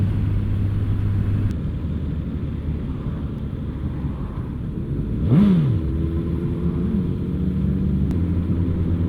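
Motorcycle engine on a ride blips into a single short rev midway, rising in pitch and falling back, heard over steady wind and road rumble.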